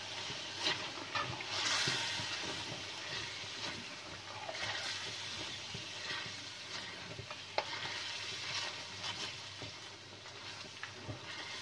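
Cream being stirred into a pot of beef white korma, giving a steady soft sizzle with faint scraping and stirring noises throughout, close and moderately quiet, with no talking.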